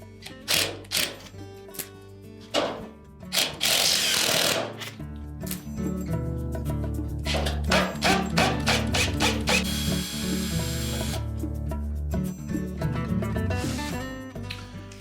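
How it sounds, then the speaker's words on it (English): Quarter-inch hex head screws are driven out of a refrigerator evaporator fan motor bracket on a Frigidaire, heard as repeated bursts of a power driver whirring and ratcheting with clicks of metal handling between them. "next we'll remove 2 1/4 inch hex head screws that secure the fan motor bracket to that evaporator cover"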